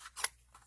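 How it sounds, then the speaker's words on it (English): Scissors trimming paper for a die cut, one quick close snip with a faint rustle of paper around it. "I need to trim this because there's only so much room for paper"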